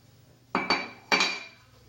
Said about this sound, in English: We are adding the 175 grams of flour and mixing it until smooth.